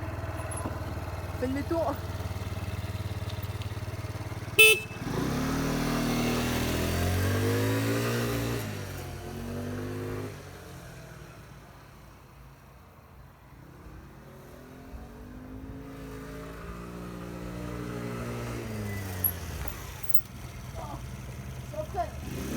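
A Kymco Agility four-stroke scooter accelerates, its engine pitch rising in several sweeping climbs, easing off in the middle and then revving up again, with a voice speaking briefly over it.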